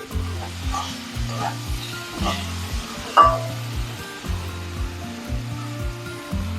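Malabar spinach (pui shak) with green chillies and spices frying in a pan for a vegetarian chorchori, giving a steady close sizzle with rhythmic stirring scrapes and a few louder clanks, no talking.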